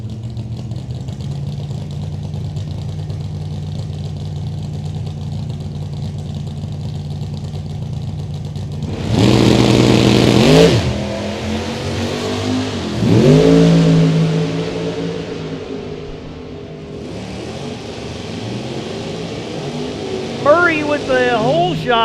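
Two Camaros, a 1967 first-generation and a second-generation, launch in a drag race at the Sportsnationals, with loud engine bursts after a steady idle. Talk runs under the revving.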